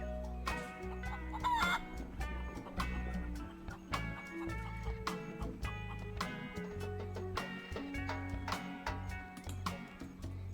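A video-game chicken clucks repeatedly in short choppy bursts over a bed of background game music, the calls fairly close and prominent, coming irregularly throughout.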